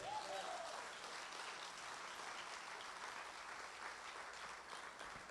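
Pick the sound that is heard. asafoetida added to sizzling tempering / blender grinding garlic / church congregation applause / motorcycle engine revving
church congregation applause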